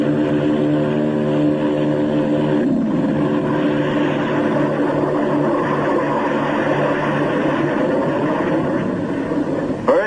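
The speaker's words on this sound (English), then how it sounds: "In the critical 10 seconds at takeoff, they give the kick-up of 2 added engines." A loud, steady roar of propeller aircraft engines during a takeoff boosted by two JATO rockets, droning continuously throughout with a rising rumble and no voices.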